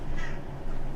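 A pet cat named Gavin gives a short, close meow, asking for food, with a faint harmonic cry near the start over steady low room hum.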